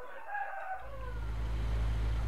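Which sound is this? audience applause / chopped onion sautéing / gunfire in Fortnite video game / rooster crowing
rooster crowing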